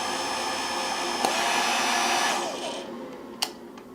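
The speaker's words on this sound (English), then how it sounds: "And here we have a heat gun. And then going up to high." A heat gun switched to its high setting blows a steady, loud broadband airflow roar that cuts off partway, followed by a sharp click and quieter hiss.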